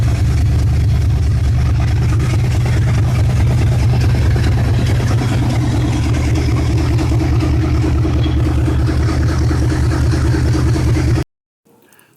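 A 1981 Kawasaki LTD 550 motorcycle engine idling up close, a steady, loud low rumble that holds evenly and then cuts off abruptly near the end.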